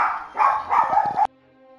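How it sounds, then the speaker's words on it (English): Several household dogs bark in a quick burst of three or four loud, close yaps and whines after their family arrives home, then the barking cuts off abruptly into near silence. "My family just got home and the dogs will not stop barking."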